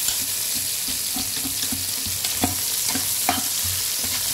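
Fish sautéing in hot oil in a pan, a steady close sizzle with scattered soft stirring scrapes and taps throughout.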